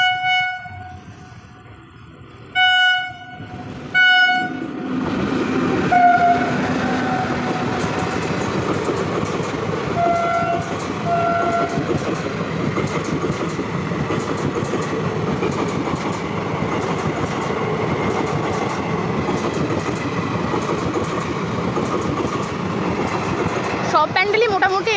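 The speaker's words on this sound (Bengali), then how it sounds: "ও ট্রেনটা একদম দ্রুত গতিতে ছুটে আসছে।" A train's horn blasts several times in short bursts, then the train roars past at high speed nearby with a loud, steady rumble and rattle of wagons lasting over twenty seconds.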